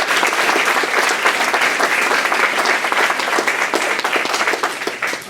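Audience applause for a college coaching panel: dense, sustained clapping from a crowd filling the room, steady for several seconds before tapering slightly at the end.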